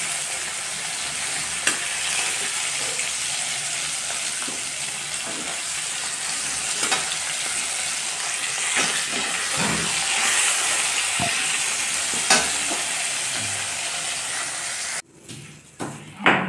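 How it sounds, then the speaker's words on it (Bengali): Fish frying in hot oil in a home kitchen, ahead of a koi fish curry with potato and cauliflower: a steady, loud sizzle runs throughout with occasional crackles and stirring clinks, cutting out briefly near the end. "বাকি মাছ আছে সেগুলো আমি ভেজে"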